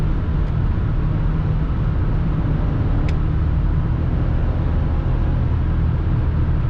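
A BMW X5 E53 4.4i V8 SUV with a 309 hp remap cruising at high speed on the autobahn, heard as a loud, constant interior drone of engine and road noise with a low steady hum.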